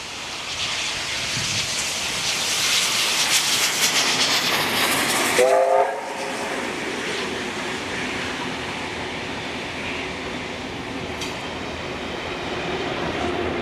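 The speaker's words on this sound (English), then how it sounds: "We now move to Banksia to see 3526 passing by with its second train to Hurstville." Steam locomotive 3526 rumbles past through Banksia station with clattering wheels and a brief horn blast partway through, the roar staying loud throughout.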